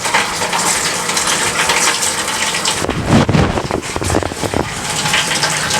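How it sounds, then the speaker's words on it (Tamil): HSR cleaning liquid is poured out in a steady, close gushing splash that runs for several seconds, briefly turbulent midway, with no talk over it. "HSR இப்போ ஊற்றுறது டெமோக்காக ஊற்றுறது இருக்குது."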